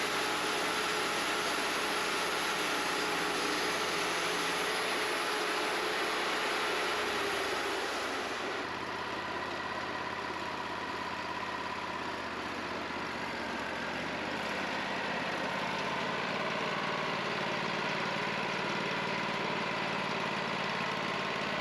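A sawmill rips a board from a small log about half an inch above the heart while quarter sawing, with a continuous engine drone and blade whir that changes tone partway through as the cut proceeds.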